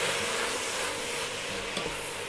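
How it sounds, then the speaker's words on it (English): Butter and sorrel leaves stirred in a hot pot give a steady, close sizzling hiss, with soft scraping and bubbling running evenly underneath the whole time and no voices. "So I'm just stirring in the butter"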